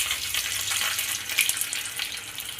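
Garlic and cumin seeds frying in hot oil in a pan, giving a steady bright sizzle with crackling pops, close and fairly loud.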